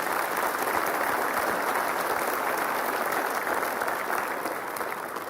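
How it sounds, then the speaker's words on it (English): Graduation audience at a culinary school spring commencement breaks into a sustained round of applause, dense and steady clapping from a large crowd throughout, easing only slightly at the end. "Round of applause for all those with goals."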